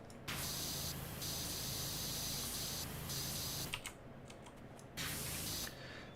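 A pressure washer in the video game Power Wash Simulator sprays water in long, loud hissing bursts, stopping and restarting several times with clicks of keys between blasts.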